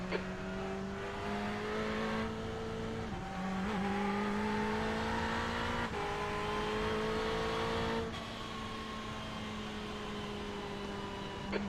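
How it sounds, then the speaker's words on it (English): Ferrari 488 GT3 race cars in iRacing at Canadian Tire Motorsport Park, a steady loud engine drone with gear shifts and rising pitch as traffic approaches, no voices. "There's traffic approaching. Watch your mirrors."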